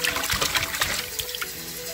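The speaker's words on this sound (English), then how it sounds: "It's running from the sink, and this kind of water is called liquid water" Water runs steadily from a sink tap in a close, continuous trickle and splash lasting a couple of seconds, with no voices.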